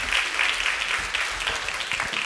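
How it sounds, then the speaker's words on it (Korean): A church congregation claps to welcome nine children coming forward at a sacrament service, a steady, moderately loud patter of many hands that carries on throughout with no pause. "나오실 때 박수로 환영합니다."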